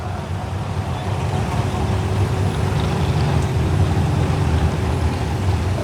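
Studebaker 6-cylinder turbo car engine running at a steady idle, a close, even low rumble throughout with faint background noise.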